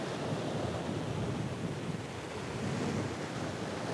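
Rough surf breaking on a Florida beach while fishing, a continuous loud roar of waves with heavy wind buffeting the microphone and no voices.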